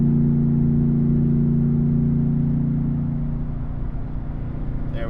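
Dodge Challenger Scat Pack V8 engine with NoWeeds exhaust idling, a loud steady low rumbling drone close by that eases slightly toward the end.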